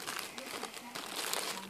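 A plastic bag crinkles and rustles close up as a toy is pushed inside, a short burst of papery crackling while a person talks over it.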